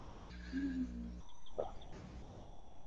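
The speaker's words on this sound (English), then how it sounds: "just a complete chorus of coqui frogs" Coqui frogs call at night in the Puna District on Hawaii's Big Island, a dense chorus of short two-note chirps repeating steadily from many directions at moderate distance, with a brief nearer tonal call partway through.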